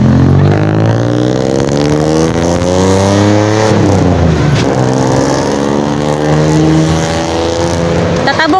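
Busy road traffic roars close by, cars and engines passing and revving continuously and loudly, with drawn-out rising and falling engine tones filling the whole stretch.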